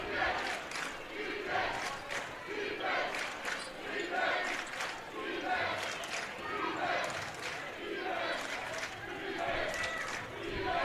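A high school girls basketball game crowd cheers and chants in rhythmic surges, loud and close, as the home crowd builds energy through a sustained wave of noise.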